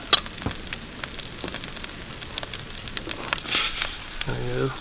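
Butter sizzling in a pan while cooking in a van, a soft steady crackle with scattered pops, rising near the end, and a brief voice at the close.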